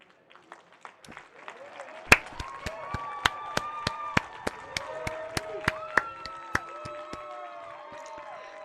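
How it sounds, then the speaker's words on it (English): Scattered, evenly spaced claps ring out in a room as someone walks in for a Pete Hegseth confirmation hearing. The claps are sharp and moderately loud, and voices talk beneath them. "I've never heard people clap when someone walks in for a fucking hearing before."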